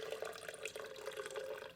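Water runs steadily from a tap into a Ninja Foodi Hot/Cold blender jug, a continuous close splashing fill with a faint ringing tone, no talking.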